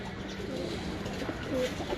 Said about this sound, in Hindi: अशरफ भट्टी साहब का कबूतर है